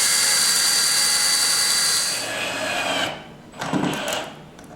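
A power drill drives a screw into a wooden bat house, a loud continuous whine for about two seconds that tapers and cuts off, then a short final burst of driving.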